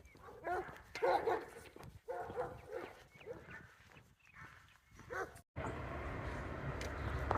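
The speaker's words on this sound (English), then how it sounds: "You got a friendly little dog across the way there." A small dog barks across the way outside an antique shop in Cherokee, Alabama, giving several yips and short barks in bursts, followed by a steady rumble of passing noise.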